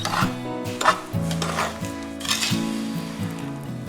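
Wild blackberry jam with sugar stirred in a pot over medium-high heat, a spoon scraping and clinking against the metal in an uneven steady rhythm, close and moderately loud.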